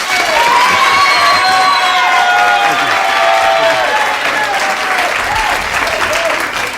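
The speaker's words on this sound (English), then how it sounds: "you can tell by the shouts of the Soul Train Gang how glad we are to have you here" The Soul Train Gang studio audience gives James Brown a loud, sustained roar of applause, shouts, whoops and cheers that fills the room without a break.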